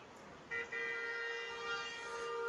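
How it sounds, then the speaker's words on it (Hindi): A Bolero Camper's car horn gives a short toot followed by a longer held honk, clear against steady outdoor background noise on a village road. "भाई इतने हॉर्न क्यों मार रहा है बंदा?"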